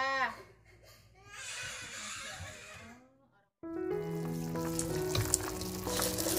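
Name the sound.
noodles cooking in a pan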